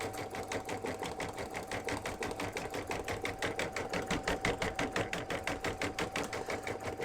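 A sewing machine runs steadily, stitching a candle wicking stitch with embroidery thread in the bobbin, its fast regular needle chatter close and moderately quiet throughout.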